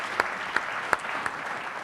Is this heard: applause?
yes